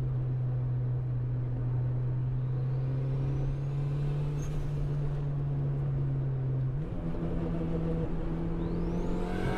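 A 1998 Honda Civic VTEC turbo cruising on the autobahn, its steady engine drone holding a constant pitch, then stepping up as the gear changes, with road and wind noise throughout and no voices.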